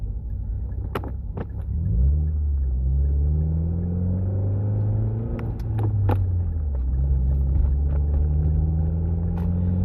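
A 2015 Subaru WRX engine with an Invidia R400 exhaust rumbles deeply, revving up and settling in waves, loud and close, with a few sharp pops and crackles from the exhaust.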